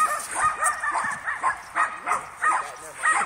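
Several dogs bark and yip in a rapid, repeated series of close, loud barks while people talk and shout outdoors.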